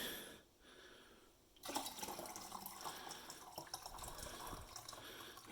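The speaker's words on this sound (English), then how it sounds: "I'm going to put some more heated water in this" Hot water heated in a microwave is poured into a cup, a steady splashing pour that starts abruptly after a quiet moment and keeps running, close to the microphone.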